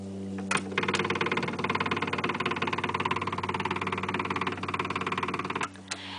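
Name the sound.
RV engine failing to start, possible bad starter or solenoid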